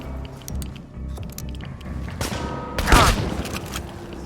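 A shotgun fires in the Chernobylite game, one loud close blast with a rolling tail amid background game ambience and mechanical clanks.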